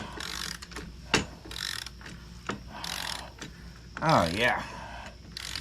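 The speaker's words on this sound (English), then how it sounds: "now the bolt is coming out." A ratchet working a brake caliper bolt loose on a Honda Reflex scooter, with quick clicking bursts and a few sharp knocks close by, and someone briefly speaking.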